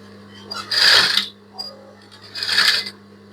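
A sewing machine stitches ball gown fabric for a child's dress in two short bursts of rapid whirring, near and fairly loud, separated by a brief pause and a small click, with a steady low hum underneath.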